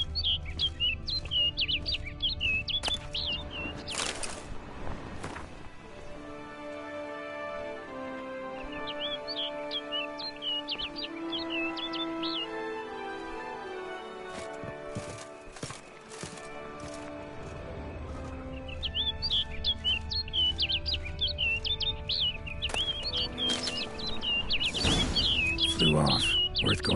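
A bird in The Witcher gives bright, quick twittering chirps in bursts at the start and end, with game music, hoofbeat-like clopping and some speech in between.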